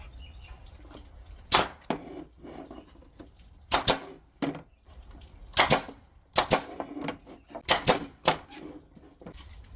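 Staple gun driving 1.5 inch staples while building a heated beehive inner cover, a series of sharp, loud snapping shots, about seven or eight irregularly spaced bursts with quiet handling noise between them.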